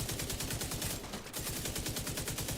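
Automated turret in The Division 2 fires nonstop, a rapid, steady stream of loud shots that carries through the clip with only a brief dip near the middle.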